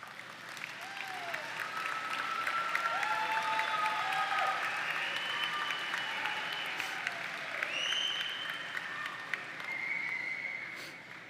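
Graduates at a high school graduation ceremony clap at length, a broad, sustained crowd applause that swells and holds, with scattered cheers and whoops rising above it.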